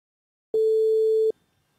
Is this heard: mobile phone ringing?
yes